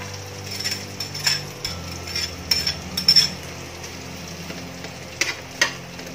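Onion sizzles in hot oil while cooking spicy lechon manok paksiw, a close steady frying hiss broken by scattered clicks and scrapes of a utensil in the pan.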